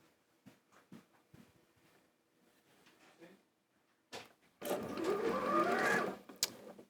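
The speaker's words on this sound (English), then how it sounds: "I'm then just sewing a 1/4 inch seam down the side" Sewing machine stitching a quarter-inch seam along a strip of fabric for a Scrap Crazy 8-inch quilt block, a steady whirring run of about two seconds after a few soft handling taps.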